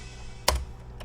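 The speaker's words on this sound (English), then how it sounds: "What you heard there was me pressing the keyboard and it triggered our sounds" Computer keyboard keys are pressed to trigger drum samples in DubTurbo beat-making software, a single sharp key click followed by a couple of fainter taps, close and clear within about a second.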